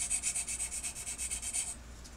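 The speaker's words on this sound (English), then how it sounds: "Just slight sanding. These are my floor remodel sanders." Floor remodel sanding sticks rub lightly over a plastic scale model of an ACH-47 Chinook gunship. About a dozen quick, even, close scratchy strokes sound in steady rhythm, then stop, with no voices.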